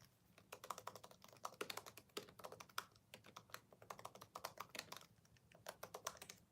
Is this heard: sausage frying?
no